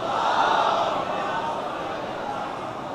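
A large religious gathering at a shrine raises a sustained collective salawat chant, a dense wash of many voices held at steady loudness for the whole stretch.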